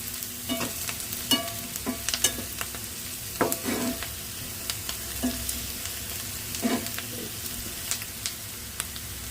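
Sliced onions frying in a pan for a home-style egg burji, a soft steady sizzle broken by intermittent scraping stirs of a spatula, close by and moderately quiet, with no talking.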